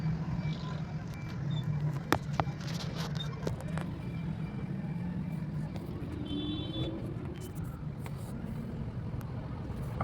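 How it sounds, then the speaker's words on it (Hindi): Dense road traffic in Lahore, a steady low engine drone of passing cars and buses with occasional faint horn toots and clatter, continuous and fairly close. "आप देख लें किस तरह की ट्रैफिक है।"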